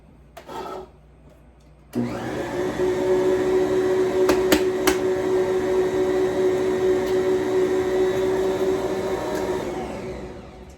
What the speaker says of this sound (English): It now says to drop the eggs in one at a time while mixing on medium speed.